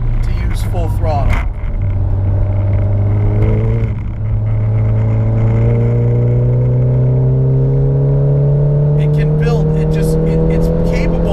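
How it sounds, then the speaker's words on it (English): A 400 HP Stage 3 tuned VW Mk7 GTI accelerates at full throttle on a race track, its loud engine note rising steadily in pitch through a long pull, with a brief lift near the start and talk over it. "Just full throttle there."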